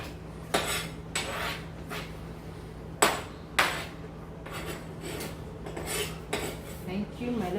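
Beef goes into a pot of cooked diced tomatoes for a Kenyan-style beef stew, heard as several sharp clanks and scrapes of a utensil against the pot over a low steady hum, with no speech.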